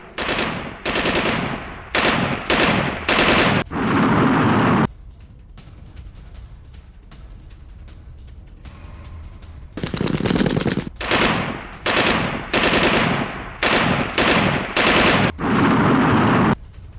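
Automatic gunfire during an attack at Turbat airport in Balochistan rattles in loud, close bursts of several seconds each, with a quieter pause between volleys.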